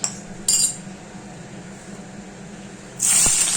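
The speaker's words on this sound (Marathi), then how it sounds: "आता मिरची घातलेली आहे पहिल्यांदा। तेलात मिरची चांगली होऊ द्यायची, शिजू द्यायची।" Green chillies go into hot oil already tempered with cumin and mustard seeds, giving a loud, bright hiss that flares at the start, settles into a steady frying crackle, then rises again sharply near the end.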